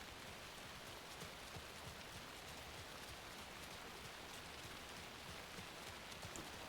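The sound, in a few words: rain in a video game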